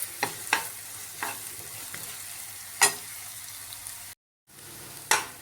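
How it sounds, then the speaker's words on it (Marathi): Onion is tempered in hot oil, stirred and sautéed until reddish for a Maharashtrian mussel dish. A continuous close sizzle is punctuated by scraping stirs of the spoon, with a momentary dropout near the end. "कांदा फोडणीला घालते. तो कांदा आता आपण व्यवस्थित लालसर होईपर्यंत परतून घ्यायचा."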